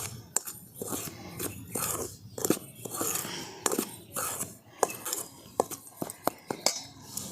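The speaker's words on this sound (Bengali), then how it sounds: "এবার শুকনো অবস্থায় সব কিছু আমি একসঙ্গে ভালো করে মিশিয়ে নিচ্ছি।" Dry ingredients for mango patisapta, including salt and sugar, are mixed together in a bowl, producing irregular clinks and scrapes of a utensil against the bowl, close and moderately loud, with no one speaking.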